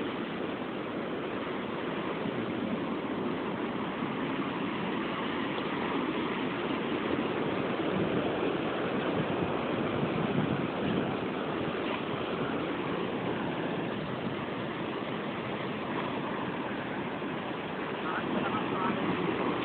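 Ocean waves wash steadily onto a shore as a continuous broadband rush without clear breaks, recorded close with slight wind noise.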